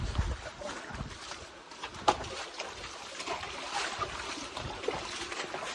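Water laps and splashes steadily around a boat, a soft continuous wash with a few small knocks, fairly faint and with no talking.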